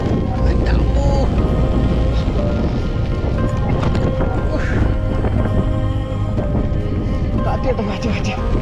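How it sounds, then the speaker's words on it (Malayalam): Strong gusts buffet the microphone atop the rocky Meenuliyan Para hilltop in Kerala, a loud, continuous roar and rumble that never lets up, with people talking over it. "കാറ്റ് കേട്ടോ, കാറ്റ്."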